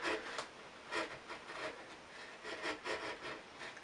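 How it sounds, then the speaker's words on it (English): A sharp chisel slowly paring wood to form a V joint, giving soft, repeated scraping strokes at close range, fairly quiet with a steady rhythm of short rasps. "Careful not to break out as the chisel exits."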